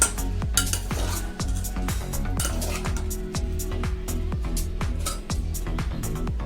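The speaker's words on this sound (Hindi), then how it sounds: "अब हम आपको चना डिश आउट करके दिखा रहे हैं। प्लेट में निकाल लिया हमने।" A metal spoon scoops cooked chana masala out of a pot onto a plate, giving a close run of repeated scrapes and ringing clinks against the cookware, with no talk.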